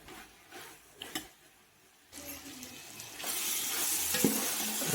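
Vegetables sizzling and frying in a pan for vegetable biryani, with occasional stirring clinks, growing louder and steadier toward the end.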